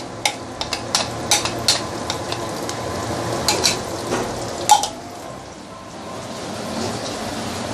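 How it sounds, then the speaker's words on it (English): Sambal chili paste sautéing slowly in a pan over medium-low heat, giving a steady soft sizzle with scattered crackles and stirring clicks close by. "Slowly saute this until the fragrance really coming out."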